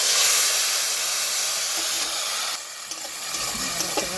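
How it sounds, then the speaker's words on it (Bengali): Onion paste made from four onions hits hot oil in a pan for a fish doi kalia, giving a steady loud hissing sizzle that dips briefly and carries on, with no talking. "এখন দিয়ে দেবো 4টি পেঁয়াজ বাটা করে নিয়েছি"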